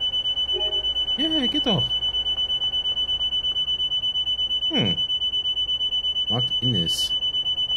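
A steady rapid pulsing alarm buzzer sounds continuously in a train cab in the Train Sim World 4 video game, a constant high electronic tone running beneath someone talking intermittently.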